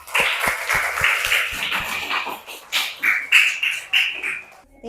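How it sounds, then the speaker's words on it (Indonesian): A class of primary school children claps for groups one, two and three, a quick burst of sharp hand claps that fades into scattered slaps, with children's voices calling over it. "Tepuk tangan untuk kelompok 1,"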